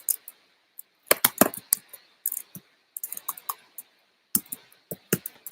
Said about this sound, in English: typing is difficult when you're talking